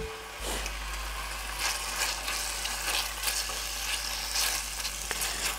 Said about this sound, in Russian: Обжарится она очень быстро, замаринована она у меня в холодильнике была.